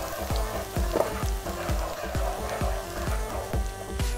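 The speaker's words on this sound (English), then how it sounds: "saute the garlic" Garlic sizzles steadily in a hot pan, a continuous close frying hiss broken by regular rhythmic knocks of a utensil against the pan, with no talk.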